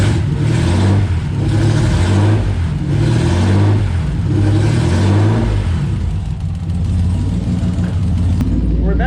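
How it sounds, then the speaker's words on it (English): Ford Scorpio 2.9 V6 Cologne engine running with no exhaust fitted, after sitting unused for about 15 years: a loud, raw, steady rumble with pulsing throttle swells that ease toward the end. "Obviously it's got no exhaust, but I think it's running on all 6 cylinders."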